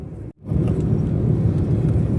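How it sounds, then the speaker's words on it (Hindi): A car driven fast along a road by a pastor gives a steady, loud low rumble of engine and road noise, broken by a brief dropout near the start. "पास्टर जी फर्राटे से गाड़ी चला रहे हैं क्योंकि टाइम निकलता जा रहा है।"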